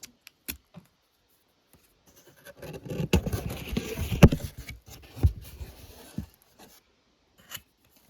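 A parcel being opened and unpacked, with close rustling, scratching and crinkling of packaging in irregular bursts, louder in the middle and trailing off into a few faint taps.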